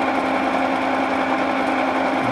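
Steady whine of a milling machine cutting metal at 165 RPM with a slow feed, constant and close with an even tone throughout.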